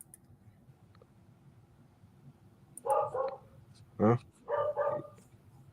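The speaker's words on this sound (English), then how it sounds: "A neighbor has a pretty barky one." A neighbor's dog barks in a few short bursts, separated by pauses, at moderate distance. The barks come through a quiet room, and one voice makes a brief utterance.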